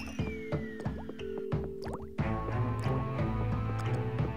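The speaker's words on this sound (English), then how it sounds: "Where is it dripping? I hear a dripping sound." Water dripping into a bucket inside a haunted tower in Luigi's Mansion Dark Moon on the Nintendo 3DS, heard as repeated soft drips and plops over steady game music and ambient tones.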